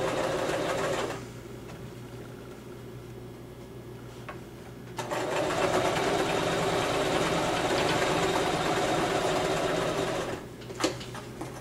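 A sewing machine stitches a seam in felt for a homemade puppet, a steady motor whir running in two bursts separated by a quieter pause, close and alone without talk.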